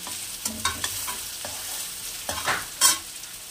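Onions being stirred as they fry in a pan for chicken korma, a steady close sizzle broken by several scraping stirs and a louder scrape near the end, with no talking.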